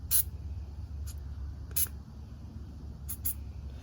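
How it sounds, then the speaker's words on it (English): Cleaner is sprayed from a spray bottle onto a nitro RC car in several short, close hissing bursts, some single and some paired, separated by quiet pauses over a low background rumble. "I'll go in and I'll spray in here really well"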